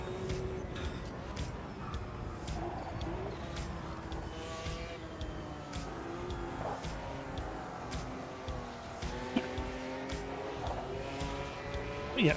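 Race car engine from a racing video game drones steadily throughout, the throttle feathered gently with a continuous mid-level roar and shifting revs, under some light background noise.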